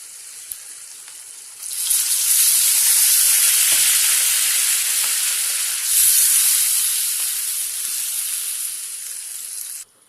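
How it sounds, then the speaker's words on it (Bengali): Water poured into spices frying in hot oil for a spicy fish and potato curry erupts in a loud, steady sizzling hiss that swells, holds for several seconds, then cuts off abruptly near the end. "এবার আমরা জল দিয়ে দেবো।"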